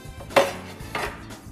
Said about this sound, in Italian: andiamo a recuperare il piatto per l'impiattamento